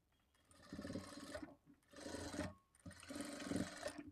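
A sewing machine runs along the marking on a lined blouse in three steady humming runs. Each run is separated by a short pause, quiet and close, with no voices.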